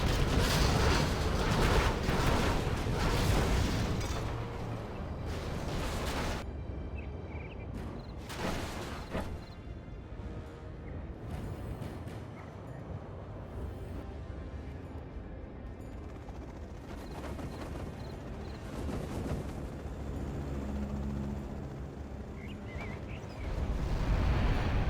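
A nuke detonates in the middle of an enemy base during a real-time strategy match. Heavy booming blasts and crackling bursts roll into a long, loud rumble of battle noise.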